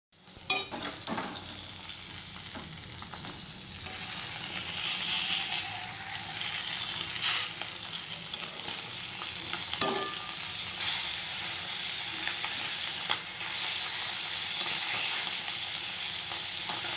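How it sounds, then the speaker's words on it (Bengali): Fish frying in a pan for a mustard-paste dish sizzles steadily and close up, with a few clinks and scrapes as the pieces are turned over. No one speaks. "তো চলো এবার মাছটা উল্টিয়ে পাল্টিয়ে রান্নাটা সেরে নিই।"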